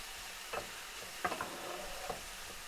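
Red peppers frying over medium heat in a pan, a faint, steady sizzle with a few soft clicks and stirring knocks scattered through it.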